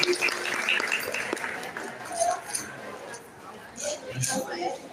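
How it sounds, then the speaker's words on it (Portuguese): An audience applauds at a capoeira gathering during the FERVA 2024 event in the quilombola territory of Passo de Camaragibe, with steady clapping that swells and fades while a voice talks over it. "Os aplausos para ele, gente."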